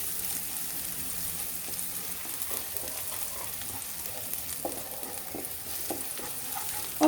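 Garlic sizzles steadily in a hot pan for bread lasagna, with a constant bright frying hiss and intermittent scraping stirs throughout.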